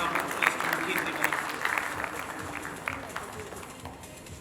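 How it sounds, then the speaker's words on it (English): Audience in a flexible packaging conference breakout session applauds panelist Kirti, an Indian maker of CI flexo presses; a moderate crowd clapping that starts fuller and gradually thins and softens toward the end. "So please give a round of applause to Kirti."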